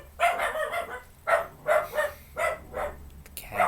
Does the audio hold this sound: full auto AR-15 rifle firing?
no